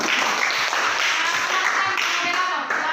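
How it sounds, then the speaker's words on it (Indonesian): A room full of people clapping for a group, steady, dense and continuous throughout with a murmur of voices mixed in. "Tepuk tangan untuk kelompok 2"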